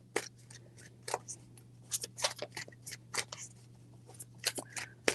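Tarot cards being shuffled by hand at close range, a string of short, crisp papery bursts in an uneven rhythm over a steady low electrical hum, with no talking.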